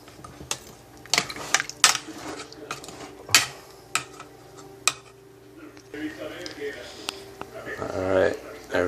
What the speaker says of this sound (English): Then of course, you stir everything again.